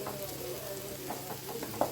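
Noodles being semi-roasted in a pan give a continuous soft sizzle with scattered stirring scrapes and clicks, fairly quiet and even throughout.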